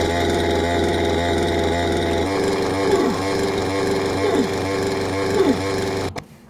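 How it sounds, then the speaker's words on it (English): A working chainsaw wielded by an enemy character in a video game drones loudly and steadily, its motor revving up in a few rising surges before cutting off abruptly near the end. "He's actually got a working chainsaw,"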